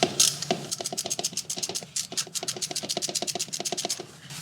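Rapid ratchet clicks loosening a power steering pump bolt on a Mercedes C-Class M271 engine, in quick bursts of many evenly spaced clicks with brief pauses, close and fairly loud, no voices.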